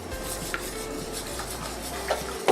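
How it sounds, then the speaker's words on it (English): Milk is slowly stirred into a thickening homemade potato cheese soup in a pot, making a steady soft scraping stir with a faint simmer and occasional light clinks of the utensil, close and without speech. "slowly start adding the milk"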